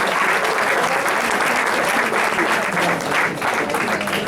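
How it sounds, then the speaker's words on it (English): Audience applause at an African American Caucus meeting of the Los Angeles Democratic Convention, a full sustained wash of clapping from a large crowd, steady and loud throughout. "please put your hands together for the applause of her"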